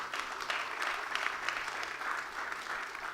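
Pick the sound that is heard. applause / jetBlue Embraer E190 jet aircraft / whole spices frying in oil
applause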